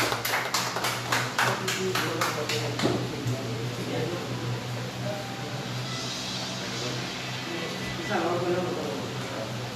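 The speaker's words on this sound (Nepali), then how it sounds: "सम्पूर्ण उपस्थित अग्रजहरूलाई ताली बजाएर सहयोग गरिदिन पनि अनुरोध गर्न चाहन्छु" An audience claps at a hearse service launch ceremony held by a Lions Club in Ratnanagar, a brisk burst of applause for a few seconds that fades into a murmuring hall.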